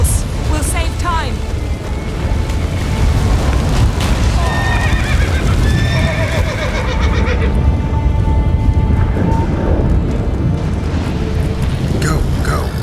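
A horse in The Witcher 3 neighs loudly and gallops with rapid hoofbeats, under battle rumble and speech.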